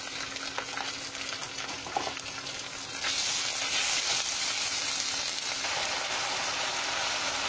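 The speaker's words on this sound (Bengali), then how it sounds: "জিরা বাটা, রসুন বাটা," Ground cumin, garlic and ginger pastes frying in a pan for mung dal cooked with fat, a steady moderate sizzle that grows louder and brighter midway, with no talking.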